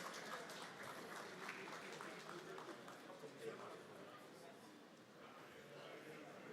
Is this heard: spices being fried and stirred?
no